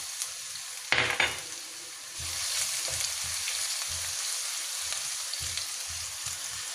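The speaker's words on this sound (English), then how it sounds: "Stir fry it." Garlic stir-frying in hot oil in a wok, a steady broadband sizzle with a sharp burst as it hits the oil, followed by rhythmic low scraping strokes of the spatula, close and fairly loud.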